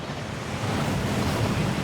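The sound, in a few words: waterfall in Gringotts vault, Hogwarts Legacy video game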